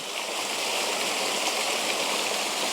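South Lawson waterfall pouring in a steady, broad rushing wash of water, continuous and fairly loud, with no voices.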